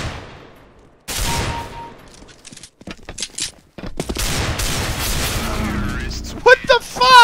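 Desert Eagle pistol fire in CS:GO on the Cache map, loud sharp shots in bursts among other gunfire and game effects, with a voice talking over parts.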